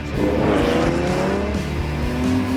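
A Porsche 917 race car roaring past at speed into a corner, its engine note loud, close and sustained throughout with a rising and falling pitch.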